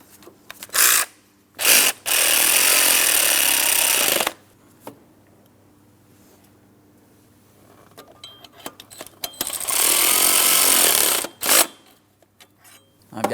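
A power tool runs in two sustained bursts of steady whirring while snugging the EGR valve bolts on a 2004-2008 Pontiac Grand Prix 3.8L V6, with shorter blips and quiet gaps between.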